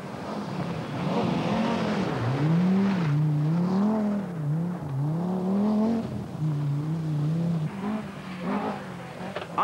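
Audi Quattro rally car on a Welsh forest stage in 1982, engine droning and revving up and down with gear changes, fairly close, sustained over about ten seconds with faint tyre noise.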